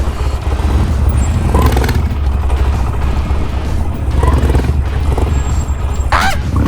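A Harley Davidson Sportster motorcycle engine runs loud and close, a heavy continuous low rumble with brief revving swells while the rider practises circle wheelies.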